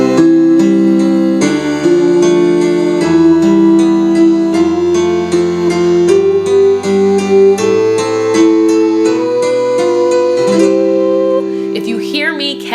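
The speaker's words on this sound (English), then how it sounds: "you'll hear the piano play underneath you" Solo piano plays loud, clear accompaniment for vocal warm-up exercises, with a steady series of sustained chords and bass notes shifting stepwise, with no singing or talking.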